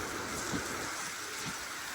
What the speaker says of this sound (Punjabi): ਉਨੀ ਤੇਜ਼ ਮੀਂਹ ਪੈ ਰਿਹਾ ਆ ਦੇਖੋ